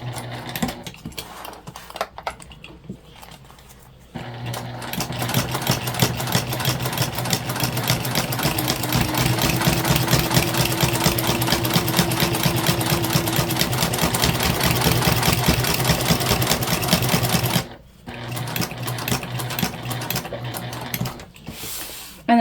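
A sewing machine runs a long steady stitch along a lunch bag, a loud, fast, even whirring drone lasting many seconds, with short stops and starts at each end.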